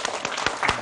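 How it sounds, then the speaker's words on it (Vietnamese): Audience applause at a speaking event, a brief burst of clapping heard up close and fairly soft, with a few sharper claps standing out. "Chúng ta sẽ một tràng vỗ tay cho ông Greg."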